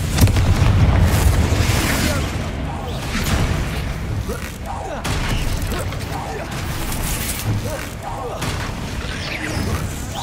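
Confringo blasting-spell explosions in Hogwarts Legacy: repeated deep booms and bursts with whooshing spell sounds, several spaced hits across the stretch, with a voice talking over the combat.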